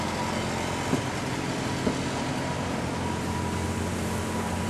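Blower on an old wood-fired maple sugar evaporator at a sugar shack, a steady, loud mechanical drone with a faint hum, continuous and unchanging, with two small knocks.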